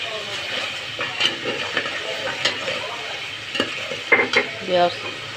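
Whole cumin, cardamom, cinnamon, peppercorns, cloves and bay leaves sputter in hot oil, a soft sizzle broken by irregular clinks and scrapes of a spoon stirring against the pan.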